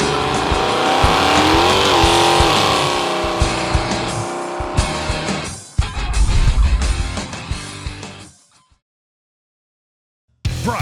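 A 1972 Dodge Challenger with a Flowmaster Super Pro Series Delta Flow muffler roars hard and revs up, with a brief tire squeal, then the engine fades out into silence before sound returns briefly.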